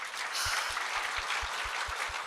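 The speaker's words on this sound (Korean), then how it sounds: "박수 쳐요, 박수 쳐, 박수." Church congregation applauding during a pastor's sermon, a steady wash of clapping that holds evenly for a couple of seconds with a faint low rhythmic thump beneath it.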